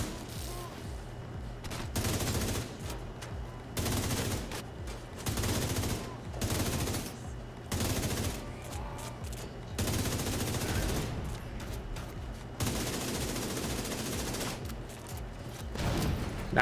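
Repeated bursts of automatic gunfire in The Division 2 shooter, dense volleys recurring every couple of seconds at steady loudness, with faint talk underneath at times.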